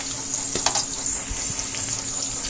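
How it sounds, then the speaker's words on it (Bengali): Onions frying in a pan, with a loud, close, continuous sizzle and a few sharper crackles and stirring clicks, with no talking. "পেঁয়াজটা একটু ভেজে নিতে হবে"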